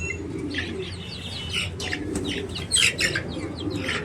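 Busy chirping and peeping of three- to four-month-old chicks, several birds calling at once in short overlapping bursts, close by with some wing flutter.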